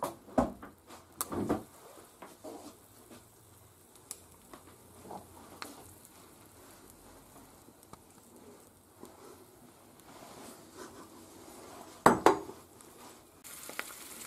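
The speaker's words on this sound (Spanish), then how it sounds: "Echamos el huevo frito." Egg frying in a pan, a faint, sparse sizzle with a few sharp pan clatters and utensil knocks, quiet and close with long calm stretches.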